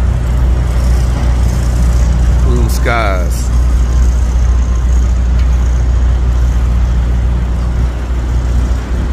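Steady roar of trucks and road traffic at a Pilot truck stop in Southern California, with someone speaking briefly over the constant engine drone.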